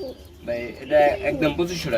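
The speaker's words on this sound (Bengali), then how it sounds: "খুবই চমৎকার আরেক জোড়া কবুতর রয়েছে" Soft pigeon coos repeat close by, low rounded calls over a murmur of background voices.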